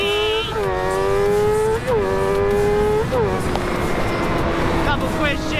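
A Suzuki GSX-R 600 motorcycle accelerates hard and close, its engine whine climbing and then dropping sharply at each of several quick gear shifts, with wind noise throughout.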